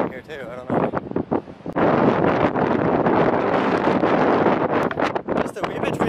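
Strong wind buffets the microphone in loud, rumbling gusts on an exposed spot in Taiwan, with a brief voice at the start before the wind takes over.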